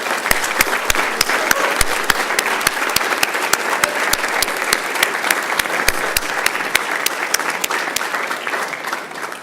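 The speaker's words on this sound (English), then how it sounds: "We salute and applaud you." A large audience at a graduate commencement ceremony applauds steadily, dense sustained clapping with a few sharp louder claps standing out through the whole stretch.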